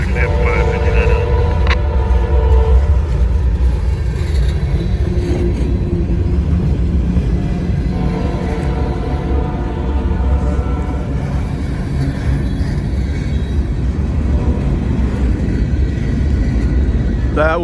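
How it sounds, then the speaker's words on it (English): A CSX freight locomotive with a Seaboard unit leading rolls through heavy snow, loud and close with a steady engine drone, rumbling wheels and a horn blaring early on, lasting throughout. "That was a great shot of that locomotive coming through the snow."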